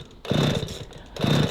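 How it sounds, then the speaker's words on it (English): Someone pulls the starter of a chainsaw twice, giving two short rasping bursts, each followed by a sputter that dies without a steady idle. "Now Otto and Krisztian, they try to start a chainsaw, I guess."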